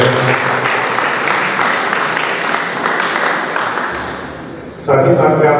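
Loud, dense audience applause at a mushaira poetry gathering, held steady for several seconds before fading slightly, then cut by a sudden burst of voice and sound near the end.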